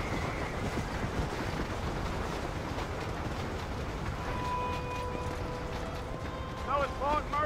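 Hooves clatter steadily as a horse gallops in Red Dead Redemption, a continuous rhythmic thudding under a muffled din, with a few brief chirpy game tones near the end.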